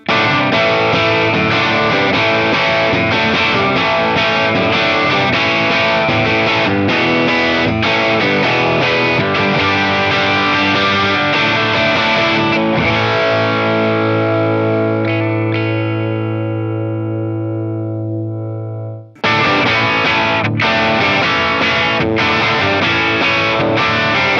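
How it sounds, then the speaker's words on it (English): Distorted electric guitar lick on the bridge pickup of a semi-hollow Eastman T386 or Gibson ES-335, with a bright, biting tone, ending on a held note that rings out and fades before another loud burst. "I'm going to play a little more lick on the bridge pickup on each of them"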